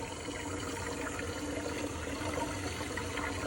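A lab tap runs steadily to drive a vacuum filtration setup with a Buchner funnel, a constant close rushing hiss of water with no pauses.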